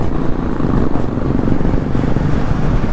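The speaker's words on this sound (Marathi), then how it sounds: "दोनशे बाईक एका लाईन मध्ये चालतायत" A long line of about two hundred motorcycles rides together at an Independence Day bike rally, giving a loud continuous engine roar and rumble that holds steady close by.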